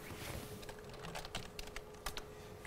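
Fingers tap on a French computer keyboard in a quick, irregular run of light key clicks, close but quiet against a low background hum.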